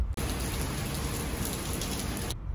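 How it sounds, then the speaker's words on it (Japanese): A heavy, sudden rain shower falls on a city street near Kashiwa Station, making a dense, steady roar of rain hitting the surfaces close by. It cuts in abruptly and stays loud and even throughout. "激しいにわか雨が降りまして"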